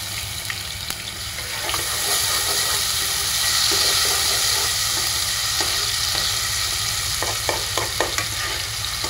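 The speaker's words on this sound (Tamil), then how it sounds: "இஞ்சி பூண்டு மட்டும் நல்லா வதக்கிக்கலாம்." Ginger garlic paste frying in ghee for ghee rice, a steady close sizzle with stirring and scraping that grows slightly louder midway, plus a few sharp utensil clicks near the end.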